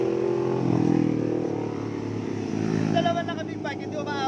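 A motorcycle engine runs close by with a steady, rough drone that swells slightly. People talk excitedly over it for much of the time.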